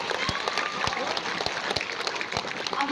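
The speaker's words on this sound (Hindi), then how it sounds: "एक बार जोरदार तालियां बजाकर बताइए मुझे" Applause from the audience at a mushaira in Bangalore, dense hand clapping with sharp individual claps standing out, continuous and fairly close.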